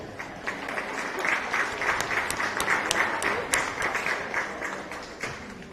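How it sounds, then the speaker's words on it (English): Audience at a county fair beef show applauds commercial exhibitors, a steady wash of many hands clapping with sharp individual claps standing out, sustained throughout with no talking. "Let's give our commercial exhibitors a round of applause"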